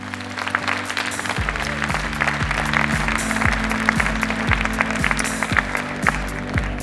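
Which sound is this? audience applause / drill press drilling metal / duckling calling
audience applause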